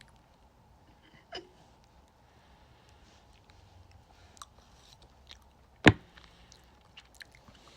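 Quiet, intermittent chewing and biting noises while eating on a livestream: soft, sparse crunches spread over several seconds, with one sharp, louder click near the end and no speech.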